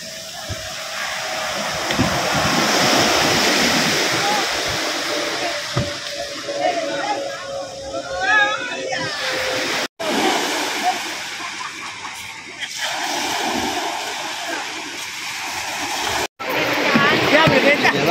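Sea waves slosh and splash against a small wooden outrigger boat, a steady churning wash of water throughout with surges of spray, while someone talks over it.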